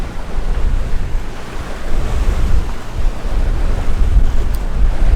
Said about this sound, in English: today the wind is right in our face. And so we are just kind of bouncing through the waves